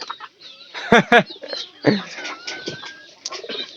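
Chickens cluck and squawk close by in short, uneven bursts, with a few sharper calls and soft background chatter of birds.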